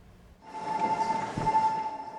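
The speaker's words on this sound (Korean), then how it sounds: "기차가 역사로 들어옵니다" A train pulls into a station on the first day of the Lunar New Year holiday travel rush, sounding a single sustained whistle of about one and a half seconds over low rolling rumble.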